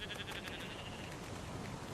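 Sheep bleating outdoors on an island beach, several overlapping calls repeating at a steady pace, moderately close over continuous wind and surf noise, with no talk.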